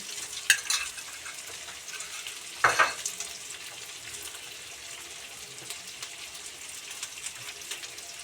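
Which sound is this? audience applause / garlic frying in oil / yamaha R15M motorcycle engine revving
garlic frying in oil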